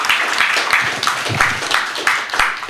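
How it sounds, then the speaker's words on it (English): Audience applause at a boxing press conference in London fills the room, a steady mass of many hands clapping at close to moderate distance, with no voices over it. "a big round of applause for everybody who's turned out tonight"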